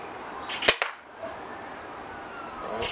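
A single sharp crack from a vintage 1925 Webley MK1 .22 air pistol, close and loud, followed by a faint pellet impact and quiet room tone.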